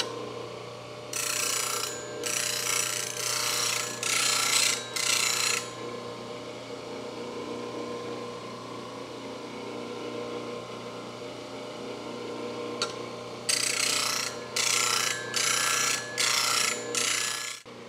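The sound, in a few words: plane blade bevel grinding on a CBN grinding wheel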